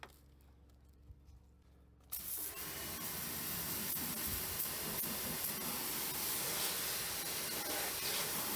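A stubby spray gun rinses the wheel arch, tyre and alloy wheel of a Fiat 500, a faint quiet lead-in giving way abruptly to a steady, broad hiss of water spray that holds for several seconds.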